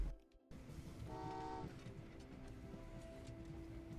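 Short train horn toot from the video game Train Valley 2, a steady tonal blast lasting about half a second, heard over a low rumbling background of rail and game sounds.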